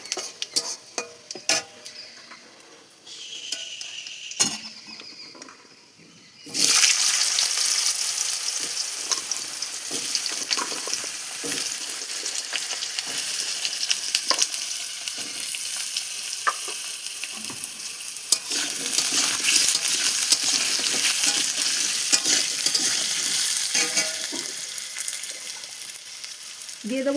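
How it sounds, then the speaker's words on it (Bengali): Potatoes frying with dry red chilli and five-spice tempering in a pan: a few clinks and taps, then a sudden loud, continuous sizzle that holds steady with occasional stirring scrapes. "ফোড়নটা একটু ভাজা ভাজা হয়ে এলে এরপর দিয়ে দেবো আলু"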